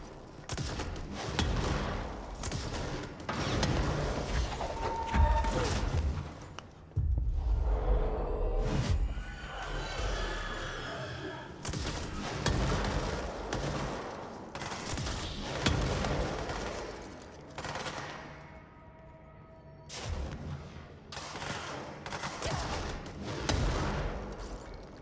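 Rocket weapon in the game Control firing and exploding, a series of heavy booming blasts and thuds mixed with dense combat noise, loud and irregular throughout.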